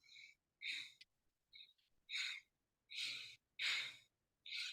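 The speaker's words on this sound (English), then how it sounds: "The main style I use is a rebirthing breath, which is like a baby's breathing in and out very gently." Gentle rebirthing breaths are heard close and soft, with about seven short airy inhales and exhales in steady succession and quiet pauses between them.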